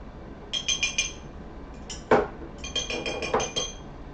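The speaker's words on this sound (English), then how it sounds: "I'm gonna get myself a little spoon here, and throw some into my pan and let it start heating up." A small spoon clinks and taps against a pan while bacon grease is scooped in, a few light metallic chinks followed by a sharper knock, then more scraping clinks, quiet and close.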